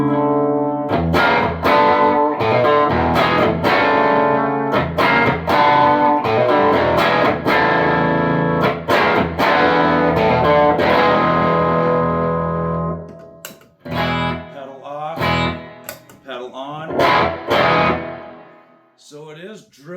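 An electric guitar played through a Blues Pearl overdrive pedal, drive set around 2 and level cranked, strums and picks loud, gritty chords and riffs, thinning out toward the end.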